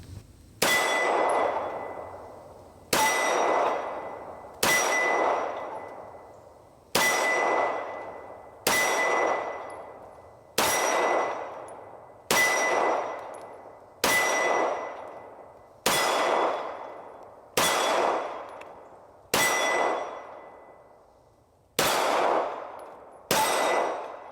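A Canik TTI pistol fires paired shots at a target, each a sharp crack with a bright metallic clang and ringing decay, in pairs repeating every few seconds at close range.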